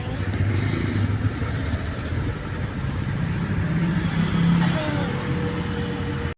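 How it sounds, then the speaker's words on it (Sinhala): Motorcycle climbing a winding mountain road through numbered hairpin bends, its engine droning steadily and close with constant wind rush and no letup. "බයික් එක"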